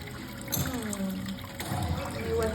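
Running water splashes and trickles as a green-cheek conure parrot is bathed, a soft, close, continuous flow with faint irregular splashes and no speech.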